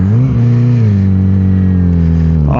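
A Yamaha R6 sport bike engine holds a steady, loud, close high-revving tone with strong harmonics, dipping slightly before a quick blip of throttle at the very end.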